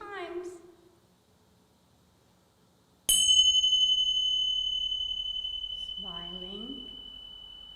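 A single bright bell strike rings out and sustains with a long, slowly fading tone during a calm breathing exercise at a children's museum, with a voice speaking before and after it.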